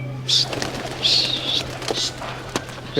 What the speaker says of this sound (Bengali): উড়ানো হচ্ছে কবুতর